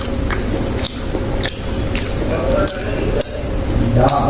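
Someone bites into a crispy fried risol filled with chicken and potato, making a run of close, crunchy bites at a steady pace with a voice faintly under them.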